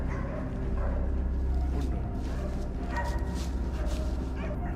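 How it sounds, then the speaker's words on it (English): A pack of hunting dogs barks and yips in a loud, overlapping chorus during a night wild boar hunt. The sound is dense and continuous, with whimpers mixed in and a low rumble beneath. "The pack of dogs began to surround, their barks echoing through the frozen space."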